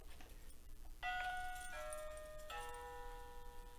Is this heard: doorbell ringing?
yes